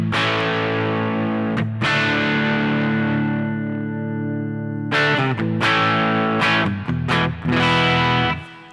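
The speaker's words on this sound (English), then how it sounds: "So here's the fat boost on the Fender amp." Electric guitar through a Quilter direct amp dialed to a Fender-style tone with the fat boost engaged, playing sustained chords that ring out loud and alone, then a quicker run of strummed and picked chords near the end.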